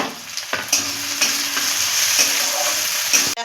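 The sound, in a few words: onion, garlic, ginger and chillies frying and being stirred in oil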